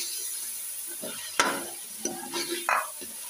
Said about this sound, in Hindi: ये देख सकते हैं हमारा गोश्त जो है वो भून चुका है